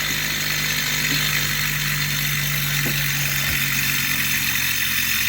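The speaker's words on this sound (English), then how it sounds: "Much happier engine, listen to it." A toy Stirling engine runs steadily while heated by a burner, giving a continuous, even whirring roar with a low steady hum underneath and no talking.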